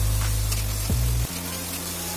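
Grated tomato goes into frying masala for a Bengali kohlrabi and potato dish, bringing a soft sizzle under a low hum that shifts abruptly partway through and then settles into a quieter, even frying sound.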